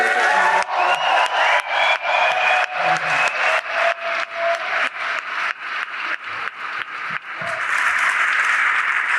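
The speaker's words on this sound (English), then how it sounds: "could we have just one more raucous round of applause for these incredible" Reunion audience breaking into raucous applause with cheering and whoops, loud crowd clapping running steadily throughout, with a short rhythmic stretch of pulsing claps and voices shouting within the crowd.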